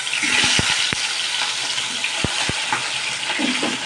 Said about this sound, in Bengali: তেল গরম হয়ে গেছে, মাছটা দিয়ে দেবো।